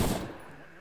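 A single sharp gunshot burst in the Arma 3 video game, close and loud at the start, then decaying quickly into a faint reverberant tail.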